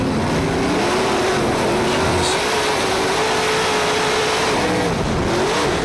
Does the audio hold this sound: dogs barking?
no